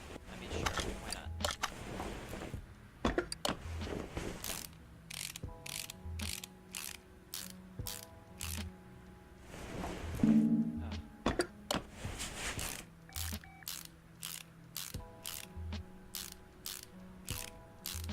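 Ratcheting clicks and gear-like mechanical sounds from spark plugs being installed on a car in a video game, coming in bursts of quick repeated clicks with pauses between them, fairly faint and with no talk over them.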